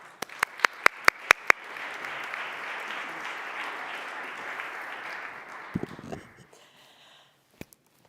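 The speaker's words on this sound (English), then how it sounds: "A strong round of applause, please" A conference audience at Barcelona City Council breaks into applause after a few sharp, separate claps, swelling into a broad steady ovation that fades out near the end, followed by a couple of stray claps.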